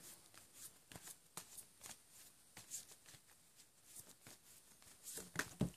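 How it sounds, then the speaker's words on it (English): Past-life oracle cards are shuffled by hand in a quiet room, with a run of soft, quick riffling flutters and light papery taps as cards are drawn. "So I will take 3 cards also from the past life oracle card for you."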